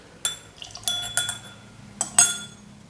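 Glassware and a spirit measure clink and tap during home whisky blending, several short bright strikes spaced irregularly, the loudest two near the end, close and alone with no talk.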